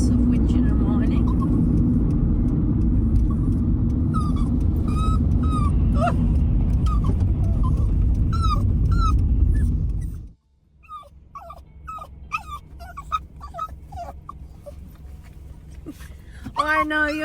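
A dog named Finnegan whines and whimpers inside a car, high repeated yelps and cries over loud engine rumble, then clearer and sharper once the motor stops, with a voice speaking.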